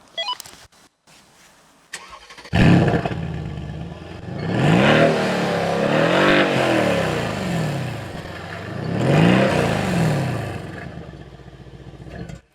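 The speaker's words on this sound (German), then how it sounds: "euch den Sound dieses V8 mit über 500 PS und 700 Newtonmetern rüberzubringen" A Mercedes-AMG C63s Edition 1 V8 of over 500 hp cranks briefly, fires up loudly, then settles into a deep idle broken by two strong revving blips, recorded close with no talking.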